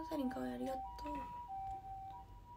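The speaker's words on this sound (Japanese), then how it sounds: "すっごい救急車。" An ambulance siren wails outside in Japan, its tone rising and falling while someone speaks over it indoors, then stays as a faint steady wail after she stops.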